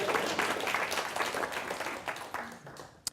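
Audience applause at a live show, a faint, dense patter of many hands clapping that fades toward the end, with a few murmurs beneath.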